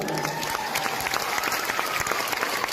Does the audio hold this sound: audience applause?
yes